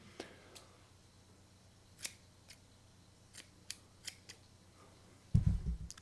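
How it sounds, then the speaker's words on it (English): Scissors snipping hair in a quiet room, a handful of sharp, separate cuts spaced irregularly, followed by a louder rustling burst near the end. "you always cut your hair with scissors"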